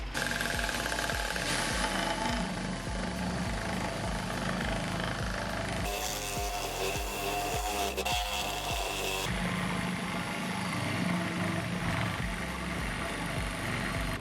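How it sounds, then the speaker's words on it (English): A drill-powered saw grinds steadily through maple wood, loud and continuous, with the motor's pitch dipping and straining partway through the cut. "Apparently the drill cannot generate enough power to get through this maple."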